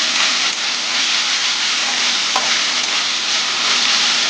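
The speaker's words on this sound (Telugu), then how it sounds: "అల్లం వెల్లిగడ్డ కూడా బాగా నూనెలో వేగేటట్టుగా కలుపుకుంటున్నాను." Ginger and garlic fry in hot oil with chopped onions for a bitter gourd (kakarakaya) fry, a loud, steady sizzle with soft stirring scrapes running continuously close up.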